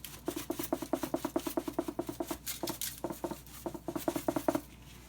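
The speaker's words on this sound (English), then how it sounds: "And now you're going to rub this in so you can have color on this side." Hands rub seasoning into a raw turkey, making quick, soft rhythmic patting and rubbing strokes in close succession, with brief pauses between bursts, quiet and close.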